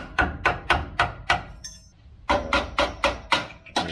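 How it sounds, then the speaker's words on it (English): Hammer striking a chisel to break off a metal tab on a Land Cruiser rock slider, a close run of sharp metallic blows at a steady beat, a short pause, then another string of hits. "I'm just kind of chiseling that tab till it breaks"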